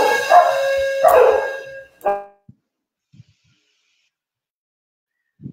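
A small dog barks twice loudly and close by, followed by a short yip, then near silence with a few faint thuds.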